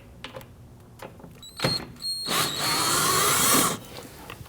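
Power driver whirring in short bursts then a longer sustained spin, loosening T25 Torx screws from the inner fender liner of a 2009-2017 Volvo XC60, close and loud with faint clicks between runs.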